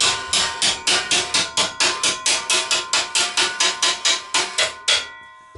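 A small hammer strikes a metal part in a steady series of about twenty sharp, ringing blows, loud and close, with nothing else heard. The part is being bent while clamped, during work on a homemade shock compressor for a Harley-Davidson motorcycle.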